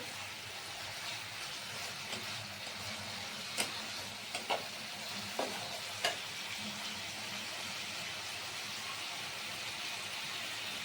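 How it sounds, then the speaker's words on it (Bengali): Potato curry for aloo dum sautéing in an uncovered pan, a steady soft sizzle with a few sharp clicks and taps of a spoon against the pan. "ঢাকাটা খুলে আর একটু সাঁতলে নিচ্ছি"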